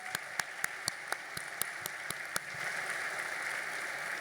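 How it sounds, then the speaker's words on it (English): Audience applause at an education award show after a string group performs, starting with a few distinct rhythmic claps before swelling into steady, moderately distant clapping from the crowd. "applause for Vibrant Strings"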